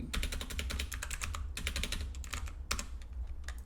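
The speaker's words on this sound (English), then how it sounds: "So just go ahead and type that one." Fingers type steadily on a computer keyboard, with quick, close clicking keystrokes in an uneven rhythm and a few heavier key hits over a faint low background hum.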